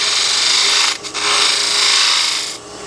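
A spindle gouge cutting a turned wooden box on a wood lathe, a loud continuous raspy shaving hiss that drops out briefly twice as the tool lifts, close by with no talking.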